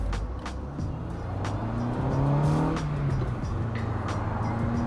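A naturally aspirated car engine fitted with a cold air intake revs up and down, the pitch climbing and falling in sweeps, loud and close with a rough low growl.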